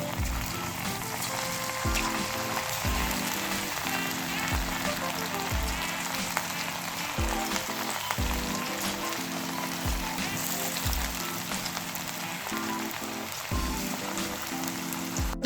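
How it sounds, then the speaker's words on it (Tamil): Chicken 65 pieces deep-fry in hot oil, giving a steady, dense sizzle and crackle that holds without a break, with a repeating low thud pattern running underneath. "எண்ணெய் நல்லா சூடானதுக்கப்புறம் நம்ம மிக்ஸ் பண்ணி வச்சிருந்த சிக்கனை ஒன்று ஒன்றா போட்டு எடுத்துக்கோங்க"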